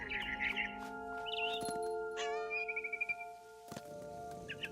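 Bright chirps and tweets of a barn swallow in the video game What Remains of Edith Finch, in short separate bursts, set against a steady tonal hum and a few soft clicks.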